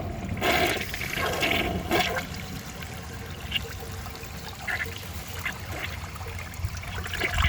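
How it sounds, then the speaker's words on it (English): A 1990 Peerless Concealed Jet toilet flushing a grocery bag, a loud close rush of water surging at the start, then draining into a steady trickle and gurgle as the bowl refills, with no talk. "It didn't slow the flush down."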